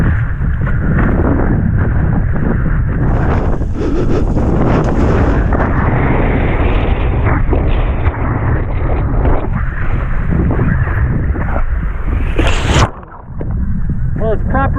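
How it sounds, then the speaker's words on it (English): Strong wind roars and buffets the microphone throughout while wing foiling on open water in about 12 knots, a loud, constant rumble with brief gusty dips and splashing, and a person talks underneath. "Well, it's proper windy now,"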